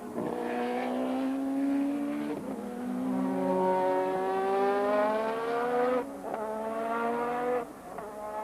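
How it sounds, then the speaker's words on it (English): A Formula One car of the late 1980s accelerates hard out of the slow first-gear La Source hairpin at Spa-Francorchamps during the Belgian Grand Prix, its engine note climbing through gears with sharp upshift breaks, loud and close. "Prost rounds the slow right-hander, the first gear corner at Los Sources, accelerates away, down to Eau Rouge again."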